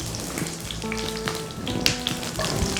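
Green chilies and mustard seeds sizzling in hot oil with urad dal, a steady close crackle and fry with small pops and stirring clinks throughout.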